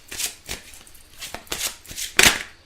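Oracle cards are shuffled by hand in a quick series of papery riffles and slaps, about eight bursts over a few seconds, close and crisp with no talking.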